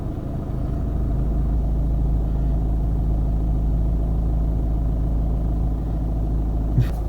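A car engine idles low and steady while a driver holds it on a hill at the clutch biting point, a constant rumble with a brief small bump near the end.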